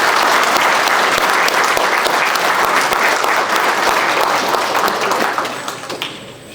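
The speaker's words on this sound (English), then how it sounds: "Give a big round of applause, please." A crowd standing at a graduation party applauds in sustained, dense clapping that stays loud for several seconds and then fades out toward the end.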